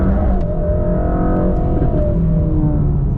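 A Mercedes-AMG GT Black Series engine pulls hard under acceleration, heard from inside the cabin as a loud, continuous rising roar with induction noise, unbroken for a few seconds.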